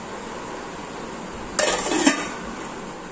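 A lid set down on a pot of dosa batter in a home kitchen gives a brief metallic clank followed by a second lighter clink, standing alone against quiet room tone.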